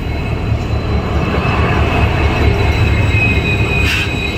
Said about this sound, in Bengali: আর আমাদের ট্রেনটা কামাখ্যা স্টেশনে ঢুকছে।